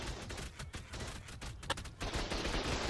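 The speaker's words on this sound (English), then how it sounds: "They're shooting me so much that they're gonna run out of bullets." Rapid gunfire fills a raid in the video game Ark, with loud continuous automatic bursts and fusillades barely pausing, close and dense, with no talk over it.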